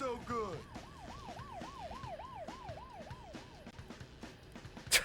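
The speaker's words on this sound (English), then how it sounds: "Did Russell chase that police car away?" A police car siren in the video game Bully wails in a rapid, rising-and-falling rhythm for several seconds, fairly faint under game noise, ending with a sharp crash.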